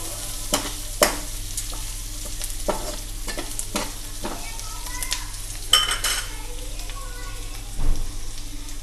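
Mutton with chopped garlic frying in a pan, a steady sizzle broken by repeated scraping and clinking stir strokes of a utensil against the metal, fairly close.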